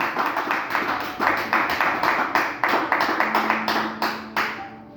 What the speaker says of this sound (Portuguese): Você pode dar uma linda salva de palmas para Jesus nessa noite?